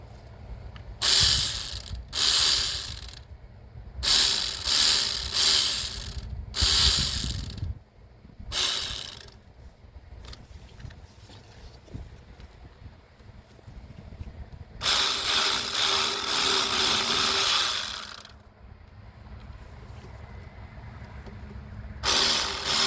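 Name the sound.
ratchet tightening on a Citroën Nemo van engine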